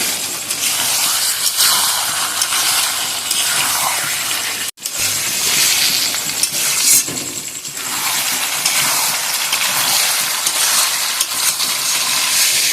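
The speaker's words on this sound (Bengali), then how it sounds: "দেখো খুব সুন্দর করে কষাচ্ছি" Mutton kosha fries and is stirred in a pan, with a dense, continuous sizzle and scraping stirs near at hand, broken by one brief pause midway before the frying hiss resumes.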